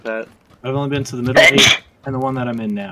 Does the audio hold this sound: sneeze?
yes